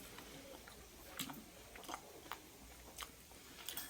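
Fried manja bara fritters, made with rice paste and garlic paste, being chewed close up: quiet, rhythmic bites and mashing at a slow steady pace, with no talking.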